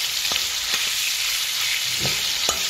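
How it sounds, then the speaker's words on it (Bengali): Chicken pieces sprinkled with a little salt fry in a pan with a steady, close hiss, broken by a few soft stirring knocks. "মোটামুটি এটাকে ফ্রাই করবো, যাতে এটা ভালো করে ফ্রাইটা হয়ে যায় আমার"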